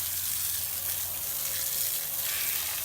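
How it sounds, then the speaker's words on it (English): Water from a garden hose spraying onto a car wheel to rinse off wheel cleaner, a steady broadband hiss that stays even and close throughout with no pauses. "You want to make sure you rinse it off very thoroughly."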